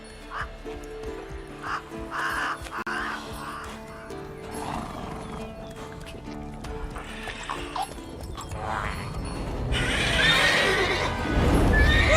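Roach, a horse in The Witcher 3, whinnies several times amid game ambience, with hoof clip-clops, distant crow caws and a rising surge of sound toward the end.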